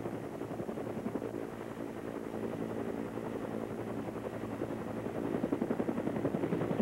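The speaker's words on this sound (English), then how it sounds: "unedited footage taken yesterday aboard an Apache helicopter of the South Carolina National Guard with Governor Carol Campbell" An Apache helicopter of the South Carolina National Guard flying over Pawley's Island after Hurricane Hugo, its steady rotor thrum and engine whine heard from on board, loud and continuous with faint rhythmic beating growing toward the end.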